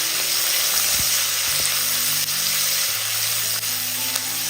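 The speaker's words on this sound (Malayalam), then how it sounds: "ഇനി ഇതിലേക്ക് ഒരു സവാള ഇതുപോലെ കട്ട് ചെയ്തെടുത്തത്, ഒരു 1/4 ടീസ്പൂൺ ഉപ്പും കൂടി ഇട്ട് ചെറുതായിട്ടൊന്ന് വഴറ്റിയെടുക്കാം" Sliced onion with a quarter teaspoon of salt sautéing in a pan, a steady soft sizzle with a few faint stirring scrapes, close and continuous, no voices.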